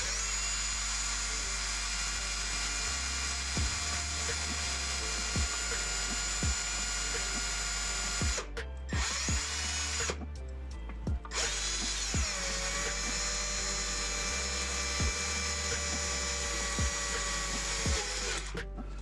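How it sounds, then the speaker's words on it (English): A small high-pitched number 51 drill whines steadily into a 1/64-scale die-cast metal model for a long stretch, briefly stopping twice, with faint ticking and clicks under the motor. "and that takes a number 51 drill"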